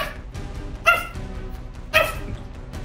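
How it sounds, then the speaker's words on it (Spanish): A dog barks twice, about a second apart, in short sharp yips near the listener over a quiet, slightly noisy background. "Pero tú, ¿por qué estás ladrando tanto?"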